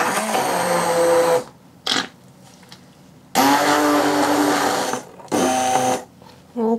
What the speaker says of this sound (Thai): ใช้เครื่องบดสับ เป็นตัวช่วยในการผสมเข้ากันนะคะ